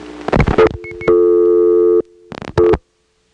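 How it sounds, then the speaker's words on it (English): Step-by-step telephone exchange tones heard while dialing a 2: short clicks and bursts, then a steady buzzing tone for about a second, more clicking, and a final brief tone before silence. "If you listen to Smyrna, Georgia, picking up the phone and dialing a 2,"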